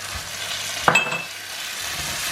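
Olives dropped into hot olive oil in a pan, giving a sudden splash and sizzle that then settles into a soft, steady frying hiss, close and alone.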